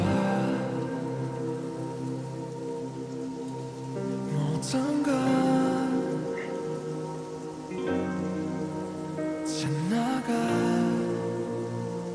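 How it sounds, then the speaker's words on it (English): A steady rain sound effect patters continuously through a song from an album, sitting under soft sustained music tones at moderate volume without any voices. "I just noticed the rain sound effect"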